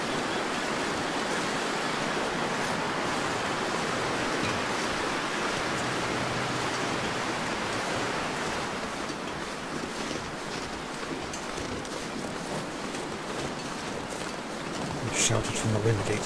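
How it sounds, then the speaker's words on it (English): Steady wind roaring in the video game The Long Dark, a continuous broad rushing gust that stays loud throughout with slight surges, under a voice. "We're walking into the wind at the moment,"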